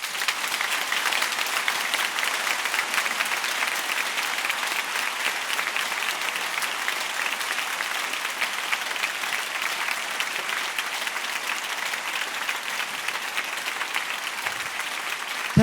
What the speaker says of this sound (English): Then you clap your hands louder.